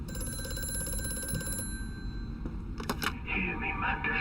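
An old telephone rings faintly in the horror game Amnesia: A Machine for Pigs, its bell tone repeating over a low, steady ambient drone before a few soft clicks.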